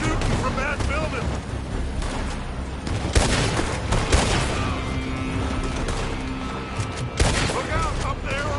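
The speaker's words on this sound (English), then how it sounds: "They're shooting from that building!" Gunfire in the video game Red Dead Redemption 2: loud, dense volleys and sharp reports over a busy battle din, with voices shouting over the shooting.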